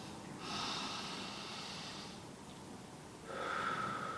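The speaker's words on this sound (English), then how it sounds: "concentrate on breathing in and breathing out for 1 minute" Slow, deliberate breathing close by, a long airy inhale followed by a steady exhale, then another breath starting, in a calm, quiet room.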